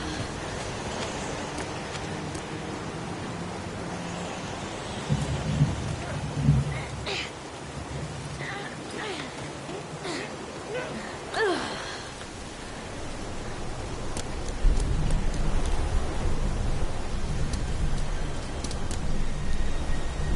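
Steady rain hiss fills a video game scene, with low rumbling swells of thunder around the middle and a heavier downpour roar building near the end.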